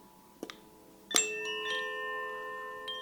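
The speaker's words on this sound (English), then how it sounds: "Also, another way to play them is to knock them." Koshi chimes struck by knocking produce two bright metallic strikes, a soft one and then a louder one, each leaving a long shimmering ring that sustains and slowly fades, close and alone.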